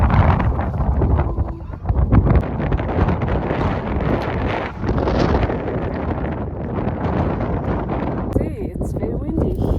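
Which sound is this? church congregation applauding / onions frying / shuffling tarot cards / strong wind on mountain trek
strong wind on mountain trek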